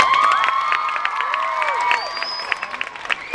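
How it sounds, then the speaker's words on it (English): A crowd applauds and cheers loudly, with steady clapping and scattered shouts and whistles that thin out toward the end. "so I think you guys should give them another round of applause."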